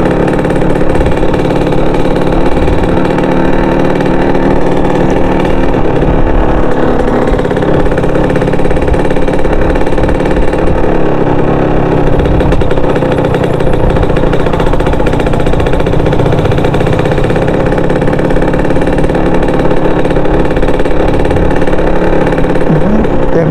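Raider motorcycle engine running steadily on a Malabon dike road, a smooth continuous mid-pitched drone that holds at an even level without pauses, heard close and loud throughout.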